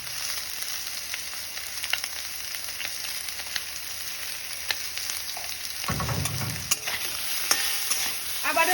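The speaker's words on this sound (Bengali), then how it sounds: "আবারও একটু নেড়ে আমি এটা ভেজে নেব।" Vegetables and soybean chunks sizzle steadily in a hot pan while being stirred, with occasional scraping and clinks of the spatula throughout, no voices.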